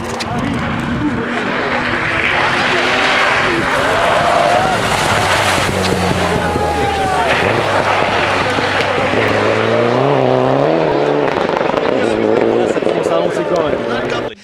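Race cars roar into turn 1 at the start, Linus Lundqvist's orange and black car among them, their loud engines sweeping and shifting pitch under continuous excited commentary and wind buffeting.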